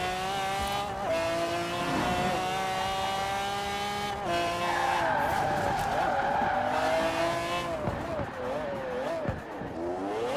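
A sports car in Forza Horizon 4 accelerates hard, its engine note climbing through repeated gear changes with squealing tires, loud and continuous throughout.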